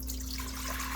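Water poured into an Instant Pot before cooking rice in a home kitchen, a steady close trickling stream with a constant low hum beneath and no talking.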